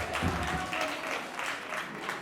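Audience clapping for a singer at a music event, a steady dense patter of many hands lasting a couple of seconds at moderate level, with no talk over it.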